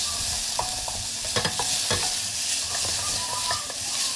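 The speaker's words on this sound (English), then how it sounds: "just give that a bit of a stir." Chopped garlic and ginger stirred in a hot frying pan, a steady close sizzle with scattered scraping and clacking strokes of the utensil, no talking.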